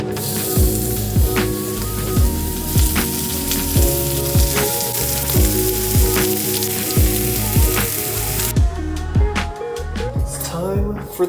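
Steak frying in a pan, a dense spitting sizzle up close with regular clinks and taps over a steady hum, which changes near the end to sparser crackles.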